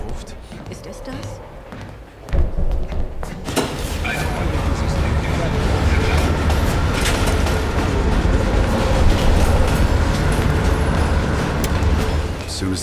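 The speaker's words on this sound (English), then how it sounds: "As soon as the train slows down," A moving train in the video game Call of Duty Black Ops Cold War gives a dense, loud, continuous rumble that swells in abruptly after a quieter opening and holds steady to the end.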